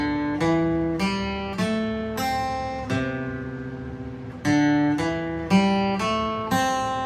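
A guitar plays a riff slowly: about a dozen single plucked notes ring out one after another in an even, unhurried rhythm, close and clear, with no other sound.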